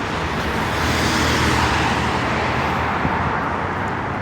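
Steady roadway noise of cars flowing along a street on a quiet Sunday morning, a continuous broadband whoosh of passing vehicles, fairly loud and close, with no voices.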